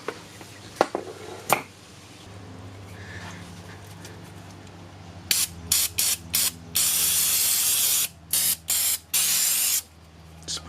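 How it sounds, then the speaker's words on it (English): Aerosol brake cleaner sprayed onto a grimy stud during a coilover install on an R32 Skyline GT-R, in several loud hissing bursts: a few short spurts, then longer sustained blasts with brief pauses between them, close to the microphone. "Spraying some brake clean on it"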